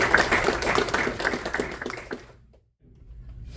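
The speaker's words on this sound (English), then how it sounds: "let's give our sponsors a big round of applause" Audience at a Lake Michigan Day 2024 event applauds the sponsors: a dense patter of clapping for a couple of seconds that thins and fades out into near silence.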